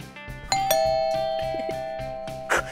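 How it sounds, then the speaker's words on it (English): A doorbell chimes in a playful fort funhouse, a two-note ding-dong with a long ringing decay, followed by another soft chime, clear and alone without speech. "It sounded like a doorbell."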